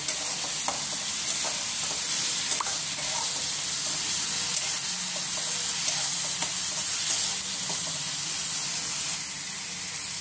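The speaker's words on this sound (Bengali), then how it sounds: "এখানে আমি দিচ্ছি শুকনো লঙ্কা, হলুদ আর জিরে গুঁড়ো। মশলাটা কষে নেব।" Dried chili, turmeric and cumin powder fry in a pan with ginger and green chili paste for dal fry. A steady, close sizzle holds for the whole stretch with no pauses.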